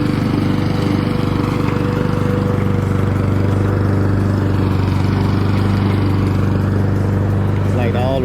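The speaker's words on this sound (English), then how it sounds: "so that's why we use the push lawnmower." A push lawnmower engine runs continuously on soaked, waterlogged grass after heavy rain, a loud steady close-up drone with a constant low hum throughout.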